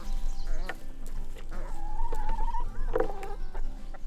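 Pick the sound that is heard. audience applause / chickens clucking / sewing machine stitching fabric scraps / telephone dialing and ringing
chickens clucking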